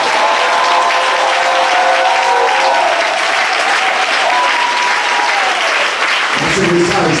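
A church congregation at a convention applauds and cheers for the Lord, a dense, loud and steady roar of clapping with voices raised in cheers mixed through it from start to finish.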